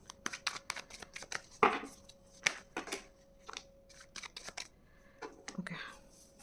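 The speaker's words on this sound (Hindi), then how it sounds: "So last shuffle and then I will take out the cards." Tarot cards are shuffled by hand in a rapid run of crisp riffles, slaps and flicks, close and clear, with occasional soft speech in between.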